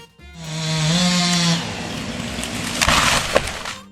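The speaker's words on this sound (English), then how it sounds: "A jab at an overgrown forest tree became a quick hit on the house." A cut forest tree crashes onto a house, a loud cracking and crunching impact with sharp snapping bursts near the end, following a low rumbling groan; no talk is heard.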